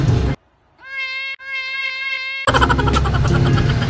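A cat lets out a drawn-out meow, briefly broken and then resumed, heard clearly between stretches of noisy background bustle at a souvenir and food market street in Vigan City.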